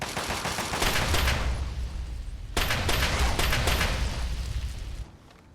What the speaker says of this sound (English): It has that unique sound effect, and it lights your opponent on fire